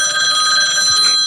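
A telephone bell rings steadily and loudly for a moment, a bright continuous electronic ring with no voices over it.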